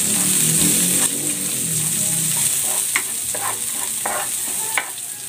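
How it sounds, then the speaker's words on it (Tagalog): Garlic and onion sauté in hot cooking oil with a steady, loud sizzle and occasional scraping stirs of a utensil in the pan, close up and with no voices. "Igigisa ko na tong bawang. At ang sibuyas."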